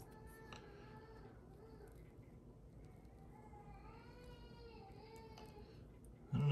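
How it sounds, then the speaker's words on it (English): An infant cries faintly in the distance with thin, wavering wails that come and go, nearly buried under quiet room noise. "I don't know if you can hear my granddaughter crying."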